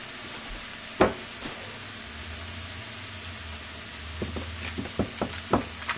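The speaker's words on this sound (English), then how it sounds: "It does not take long to cook the chicken breast, depending on what you're going for." Thin chicken breast fries and browns in a pan with a steady close sizzle, broken by a few sharp clicks and taps of utensils against the pan.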